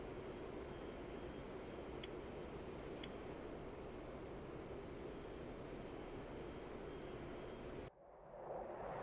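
Mirage F1 jet engine roaring at maximum military thrust in a flight simulator game, a loud steady broadband rumble for about eight seconds before cutting off abruptly, leaving a quieter hiss.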